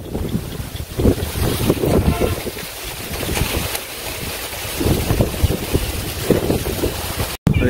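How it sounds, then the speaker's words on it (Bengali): Strong storm wind blowing outdoors in a village during rain, a loud, continuous roaring gust with buffeting against the microphone, rising and falling in waves, with a brief faint voice under it. "বাতাস"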